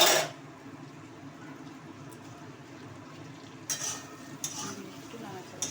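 Tomatoes being stirred with ginger-garlic paste and green chillies in a pan while making chilli chicken, giving a soft, low sizzle with a few light scrapes and clinks of a spatula toward the end.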